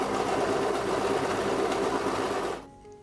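A sewing machine runs steadily along the edge of a backpack lining for a few seconds, then stops abruptly, leaving near silence.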